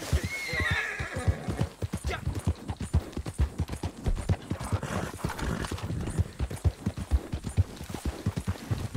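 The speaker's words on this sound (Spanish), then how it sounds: "Vamos a coger este caballo." Horse in Red Dead Redemption 2 neighing and whinnying loudly, with rapid rhythmic hoofbeats clip-clopping steadily underneath throughout.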